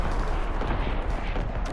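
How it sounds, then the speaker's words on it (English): Dense, continuous battery gunfire in a video game, loud and sustained with rumbling blasts throughout and no pauses. "Firing primary battery."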